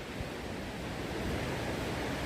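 Ocean surf washing up on a beach at Koh Chang, Thailand, as a continuous broadband roar of breaking waves, close and steady with no voices.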